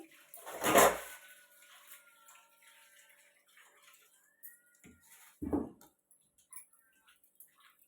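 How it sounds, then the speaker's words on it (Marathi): Tilapia fish being rinsed in a water-filled vessel: two distinct sloshing splashes, one near the start and one past the middle, with quiet dripping and faint background sounds between them. "मस्त अशी मच्छी साफ धुवून घेतली"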